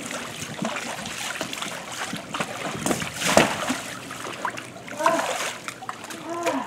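Water splashes and sprays in a pool where people play with a giant bubble ball and a giant beach ball, with repeated close splashes and excited voices over the water.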